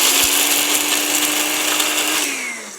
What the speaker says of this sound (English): All we're going to do now is just get our blender, little blender jug, and we are going to add the cashews